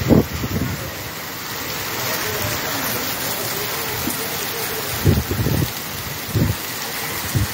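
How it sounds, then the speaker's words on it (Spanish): Finger-sized hail falls in a hailstorm in Placetas, Villa Clara, a steady dense patter of ice hitting surfaces with louder bursts of impacts, while a person talks nearby. "No sé si logran a ver el granizo cuando cae."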